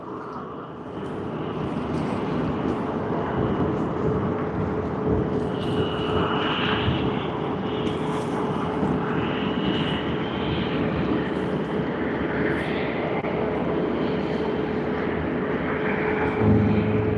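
Private jet taking off from runway 16R at Sydney Airport, a steady, heavy engine roar that holds for the whole span with faint chirps and background noise and no talk.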